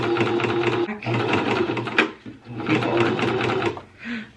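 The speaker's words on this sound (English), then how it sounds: "sew up the other part here, which is really just a very short area" A home sewing machine stitches fabric in three bursts of rapid mechanical whirring and clatter, close and loud, with brief pauses between runs.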